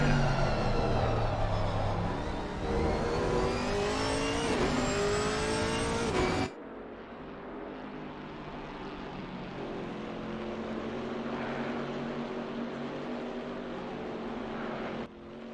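A GT4 race car engine in a racing video game revs loudly, with pitch sweeping up through the gears. It then drops abruptly to a steadier, lower engine drone that holds to the end.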